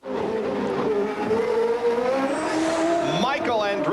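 IndyCar race cars from the 1991 CART race at Surfers Paradise braking hard, the engine note dropping through loud, close downshifts with a short tire squeal near the end, under a commentator's voice.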